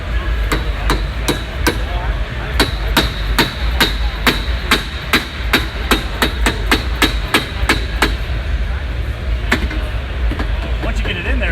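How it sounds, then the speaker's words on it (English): Steady hammer blows ring out during assembly of a Polaris RZR off-road vehicle at an expo, roughly two dozen sharp metallic strikes in a quick irregular rhythm over constant crowd and hall noise, with faint talk in the background. "Got a little hammer real quick."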